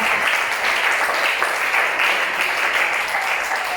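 Church youth service audience gives warm, continuous applause, a loud, steady wash of many hands clapping without letup.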